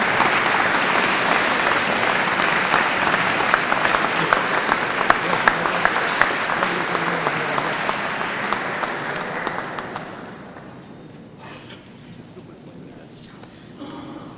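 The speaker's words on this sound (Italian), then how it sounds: "Eccolo, un applauso." An audience at a Christmas concert in Ponte Lambro applauds, a full, lively burst of clapping from a crowded hall that gradually thins and fades out after about ten seconds, leaving quieter room sound.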